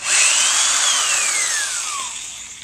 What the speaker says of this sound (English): So then I'm going to drill the screws in with this.